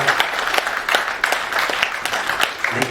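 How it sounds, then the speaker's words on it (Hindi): Audience at a panel discussion giving steady applause, a dense run of close, loud handclaps lasting several seconds with no talking. "तो एक बारी जोरदार तालियां हो।"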